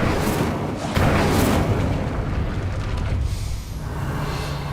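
An Incendio fire spell is cast in Hogwarts Legacy, a loud whooshing blast with a boom that swells and then settles into a steady roar of flame.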